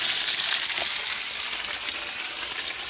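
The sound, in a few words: small waterfall at Peachtree Rock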